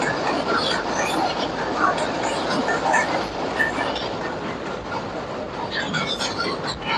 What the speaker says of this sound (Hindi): यहाँ से गुजर रही है इस वक्त एक ट्रेन।